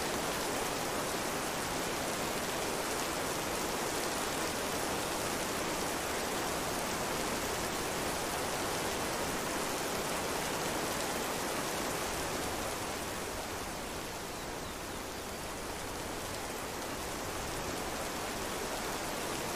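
In the video game This Land Is My Land, rain falls in a steady, dense hiss that carries on unbroken for the whole stretch, dipping only slightly in loudness partway through, with no voices.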